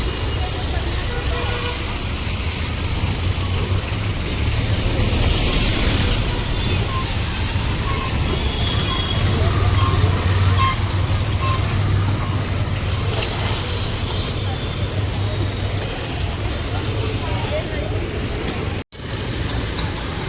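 Dense evening traffic jam near Thakur Village in Mumbai makes a steady low rumble of idling and creeping vehicle engines, continuous and close, with voices talking over it.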